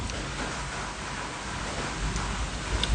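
Steady rain falling, a dense hiss of drops with a low rumble underneath, constant and moderately loud throughout.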